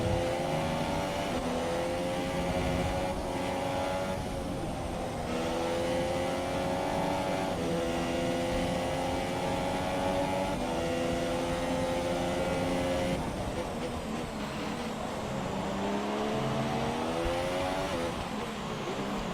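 Formula 1 race cars at the 2017 Mexico Grand Prix, a loud sustained engine whine that rises and falls with revving and shifting, continuous throughout with no talk.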